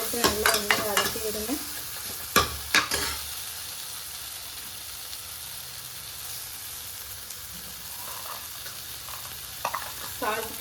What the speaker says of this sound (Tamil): தக்காளி எல்லாம் போட்டு நல்லா வதக்கி விடுங்க.